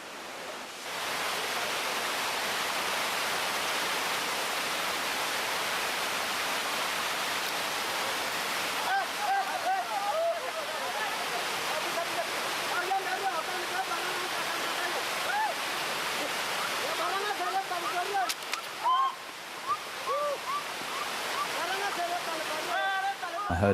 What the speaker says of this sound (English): The next bridge was built over the lip of a waterfall which plunged 120 feet.